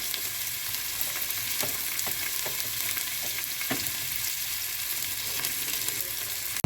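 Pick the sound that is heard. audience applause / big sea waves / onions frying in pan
onions frying in pan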